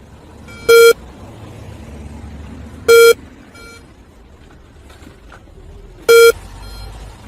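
Anti-theft alarm on a smart robot cart sounds as it leaves its boundary zone: three short, loud electronic beeps spaced about two to three seconds apart over a low room hum, with no talk.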